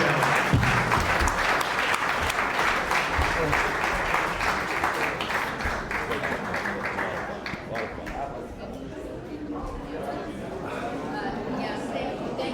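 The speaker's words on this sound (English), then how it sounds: "So let's give them a warm round of applause." Audience applause at a state assembly and senate election forum in the beach cities, dense steady clapping that fills the room and tapers slightly toward the end, with some talk underneath.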